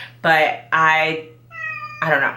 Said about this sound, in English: Sorry about my cat meowing in the background.